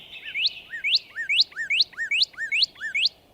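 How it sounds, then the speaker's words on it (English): A small bird chirps repeatedly in a snowy winter wood, sending a quick run of about seven bright, rising tweets in steady rhythm, close and clear against a quiet background. "Oh, and who is that chirping here?"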